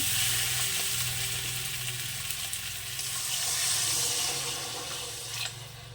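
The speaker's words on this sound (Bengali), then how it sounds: "এবার এখানে আমি দিয়ে দেবো জল" Steady hissing sizzle as water is added to a hot pan of fried potatoes and spices for tangra fish curry, a continuous frying crackle that rises and falls slightly, close by with no talking.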